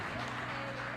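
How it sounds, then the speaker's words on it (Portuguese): A church congregation clapping their hands together during a worship service, a dense, continuous patter of many hands with voices and music blended underneath. "Agora bata palmas para Jesus"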